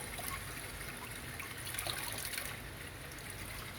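Water runs steadily from a tap while a cleaned mud crab is rinsed in a Queensland kitchen, a constant soft trickling wash with faint splashes throughout, heard close and alone.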